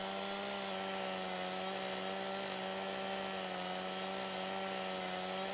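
A chainsaw in the video game Farming Simulator 17 runs continuously at high revs, a steady buzzing whine biting through a thick log, loud and close with no pauses.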